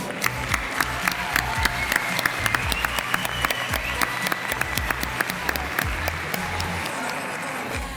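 Warm, sustained audience applause at a vocational graduation ceremony, with sharp individual claps standing out over a steady wash of clapping, fairly close and moderately loud throughout.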